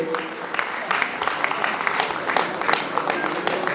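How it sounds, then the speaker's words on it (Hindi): Crowd at the Basant Panchami fair at Kanvashram in Uttarakhand giving loud applause during a prize announcement for a kirtan group winner, many hands clapping in a steady rolling wash with some voices mixed in. "जोरदार तालियों से आपका स्वागत करेंगे"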